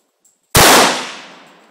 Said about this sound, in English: here goes Jim with his Mauser, first shot.